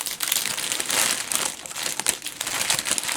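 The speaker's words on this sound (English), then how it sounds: "Sorry for all the crinkly stuff. Crinkle warning, crinkle warning." Plastic packaging crinkles and rustles steadily while a DAC David Mclean mystery kit is unboxed, a close, continuous crackling with small bursts and no pauses.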